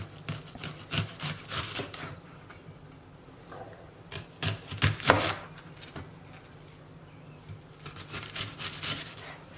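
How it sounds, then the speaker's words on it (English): A knife slices onions into thick rings for onion rings, giving repeated chopping thumps against a board in irregular clusters, with quieter handling between the bursts, close and without speech. "I'm going to cut them, slice them quite thick, so we'll have a decent ring on them"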